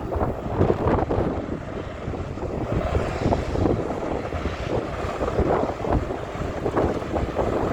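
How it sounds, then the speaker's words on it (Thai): A rice harvester churning and splashing through water, a loud continuous roar with rough sloshing bursts, no speech. "ไม่ใช่เรือดำน้ำนะครับเนี่ย นี่คือรถเกี่ยวข้าวครับ"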